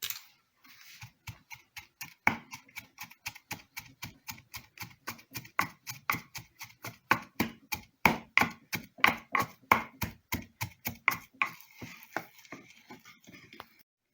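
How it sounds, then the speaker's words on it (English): Coconut, garlic, cumin seed and turmeric powder are worked in a hand mortar, producing a long run of rapid, evenly spaced knocks that grow firmer and then ease off, close up with no talking. "then grind all these up"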